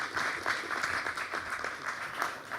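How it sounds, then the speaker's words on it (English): Warm applause from a conference audience at a sustainability event, steady dense clapping filling the room throughout without speech. "Let's give him a warm round of applause."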